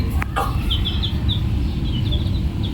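A chicken gives a series of short, high clucking calls in quick bursts over a low background rumble, close to the microphone.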